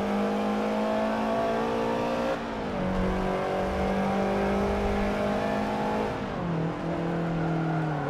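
A Subaru BRZ engine revs in Forza Motorsport 7, a loud, steady engine drone with harmonic tones that dip and climb as the throttle lifts and comes back on. No voices are heard over it.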